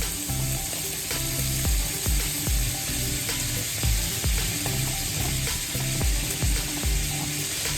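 Butter sizzles and crackles steadily in a hot pan, a continuous close frying hiss with scattered pops and occasional clinks, no talking.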